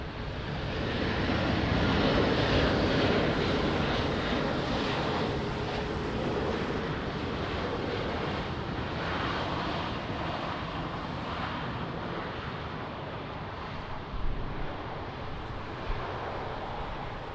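A passing airliner at Lisbon Airport in the rain gives a steady, broad roar that holds at an even level throughout, with a small bump near the end and no speech.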